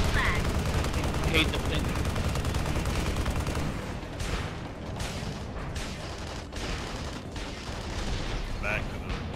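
Airstrike in the Tribes Ascend shooter, heavy continuous rumbling blasts and rapid gunfire layered into a dense, loud battle roar while a voice talks over it.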